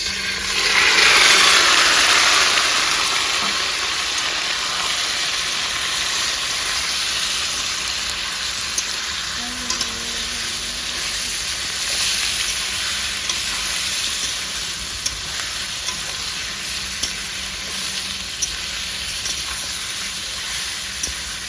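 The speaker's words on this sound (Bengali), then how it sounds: "তেলটা গরম হয়ে গেছে চিকেনটা ঢেলে দেবো" Marinated chicken frying in hot oil, a loud steady sizzle that flares up when the pieces go in and then settles into a constant crackling hiss, with no talking.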